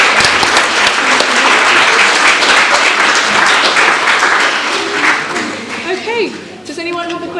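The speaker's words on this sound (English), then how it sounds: "I'm going to ask for a round of applause" An audience applauds a model after her talk, with a loud, dense burst of clapping that gradually thins, while scattered voices and chatter rise over the tail end.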